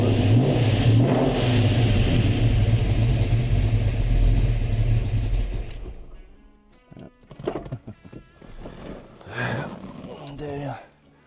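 A rebuilt 1969 Fastback engine idles in a garage, a loud, steady low rumble for about six seconds before it drops away, leaving quieter scattered knocks and clatter.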